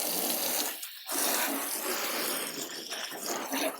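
A steady, close hiss of water spraying over the sides of a car while it is rinsed during a wash. It runs continuously with one brief break near the start.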